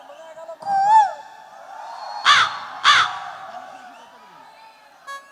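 A crowd at a live outdoor concert imitates crow caws, giving two loud, harsh caws in quick succession after a rising hooted call, with a short final squawk.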